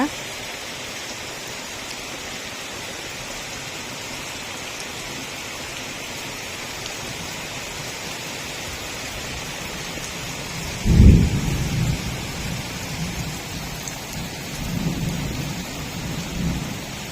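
Steady rain hiss throughout, with a low rumble of thunder swelling around the middle and a few softer rolls afterward.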